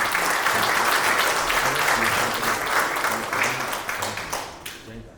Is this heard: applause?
yes